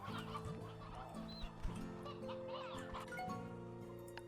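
Many chickens cluck and squawk in Slime Rancher 2, a busy, overlapping flock of fairly quiet calls over a steady droning game background with a few sharper bursts, and no clear speech.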